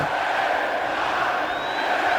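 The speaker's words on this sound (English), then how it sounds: "And the crowd said LA Knight, yeah." Wrestling arena crowd at a TNA show chanting for LA Knight, a dense, loud, sustained roar of many voices filling the whole stretch without a break.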